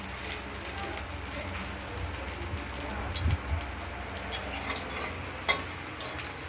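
Mustard seeds fry in hot oil, a faint continuous crackle with scattered pops and a couple of sharper spatters.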